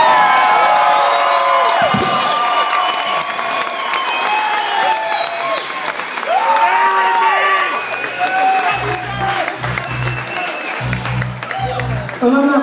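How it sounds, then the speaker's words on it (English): Crowd applause and cheering at a rock concert in New Haven, Connecticut, with loud sustained clapping, whoops and shouts rising and falling throughout, a few voices calling out over the din. "nice round of applause"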